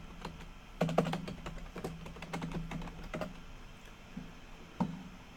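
Quiet, sparse taps on a computer keyboard as a search word is typed: a few clustered keystrokes, then isolated presses, close up with no speech.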